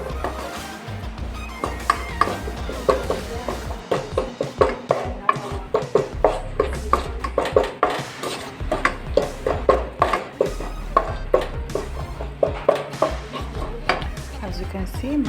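A spoon stirs a pot of beef and spaghetti seasoned with Royco cubes, producing a close, irregular run of clacks, knocks and scrapes against the pot over a faint simmer.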